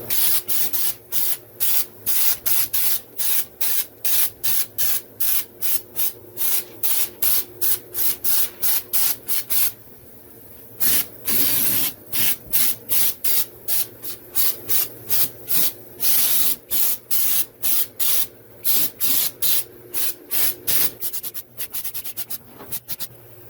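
An aerosol spray can coats a truck's rocker panel in rapid, rhythmic bursts of loud, close hissing, with a short pause partway through before the bursts resume.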